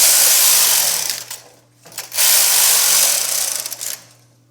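Carriage of a domestic knitting machine swept across the needle bed for two rows: two loud, rasping passes, the first about two seconds and the second just under two, separated by a short pause, over a low steady hum.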